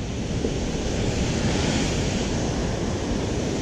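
Waves surge against the shore during pejerrey fishing, a loud, continuous roar of surf and wind noise filling the whole stretch without voices.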